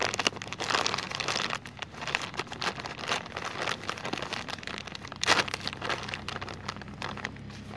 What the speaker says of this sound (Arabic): نفتح الكيس بالشكل ده،